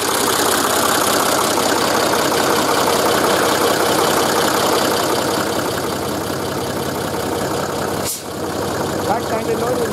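Magirus-Deutz Mercur all-wheel-drive motorhome's 9.5-litre V6 diesel running on after shutdown, a steady rough close-up clatter lasting throughout that briefly dips near the end, with voices nearby.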